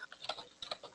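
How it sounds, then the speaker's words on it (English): Faint, distant computer keyboard typing in the background of a call, a handful of light, scattered ticking clicks. "we can hear your keyboard in the background"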